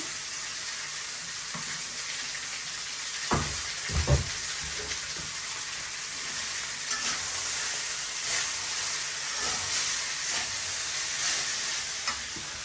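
Maggi noodles go into a pan of fried onions with a steady, loud sizzle. Occasional stirring scrapes and soft clacks run over the continuous frying hiss, and no one speaks.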